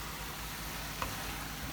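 Cajun shrimp go into a hot pan and sizzle, a steady close hiss of frying with one small pop partway through.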